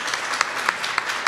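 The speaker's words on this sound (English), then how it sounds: "That is worth a round of applause." Audience applause at a local news segment, a steady wash of clapping with a few sharper individual claps standing out, moderately loud and continuous throughout.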